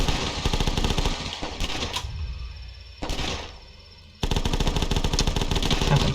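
Rapid automatic gunfire from a weapon in the zombie survival game The Last Stand, loud and continuous bursts that stop briefly around the middle during a reload-like pause, then resume sustained rattling fire with no talk.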